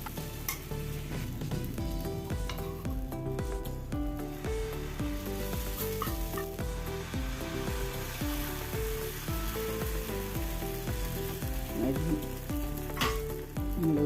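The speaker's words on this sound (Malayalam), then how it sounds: "ദോശയും വെന്ത് കഴിഞ്ഞ് നമുക്ക് അടുത്ത ദോശയും കൂടി ചൂടാം" A wheat dosa cooks on a hot pan with a constant close sizzle, while steady tonal music plays loudly over it throughout.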